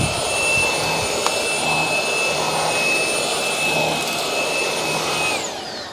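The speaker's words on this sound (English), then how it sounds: "normally all I do is I just use a cordless vacuum to vacuum it over" Cordless vacuum cleaner running over car floor mats, a loud, steady high-pitched whine with a rushing airflow roar that holds constant, then winds down as it is switched off near the end.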